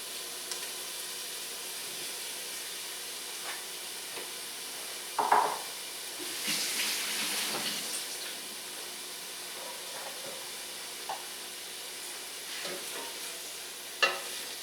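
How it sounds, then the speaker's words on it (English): Fresh Florida seafood sautéing in a little olive oil in a pan, a quiet steady sizzle with a few utensil knocks and brief louder bursts of hiss, close up and alone. "Just a little bit of olive oil under here. I want to deep fry them. This is called sauteing."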